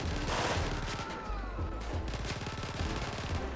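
Sustained rapid gunfire during a GTA V gang war, steady loud bursts of shots throughout with no pause.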